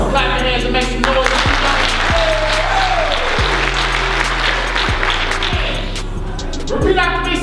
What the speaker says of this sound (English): Clap your hands and make some noise.